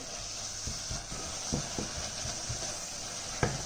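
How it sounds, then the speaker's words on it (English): Tomato puree and chopped tomatoes being stirred into a hot pan for a beef and tomato noodle dish, a low sizzle with several soft spoon scrapes and taps, fairly quiet, no talking. "And then we're going to add the tomato puree and the chopped tomatoes. Mix them in."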